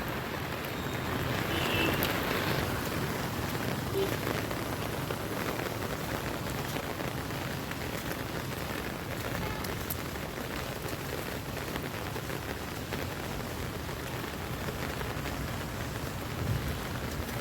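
Heavy rain pours down steadily, a dense, continuous roar of drops on surfaces with no talking.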